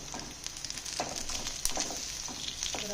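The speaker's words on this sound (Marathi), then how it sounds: "गॅस आता फुल सोडला आहे, त्याच्यामुळे चुरचुर चुरचुर असं वाजायला लागलं आहे." Food sizzles and spatters in a pan over a gas flame turned to full, a steady close crackle dotted with sharper pops throughout.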